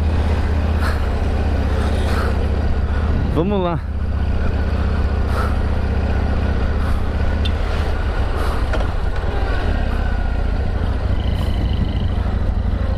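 Yamaha MT01 1670cc motorcycle engine idling loud and close with a deep, steady rumble and one quick rising rev blip early on, while people talk over it.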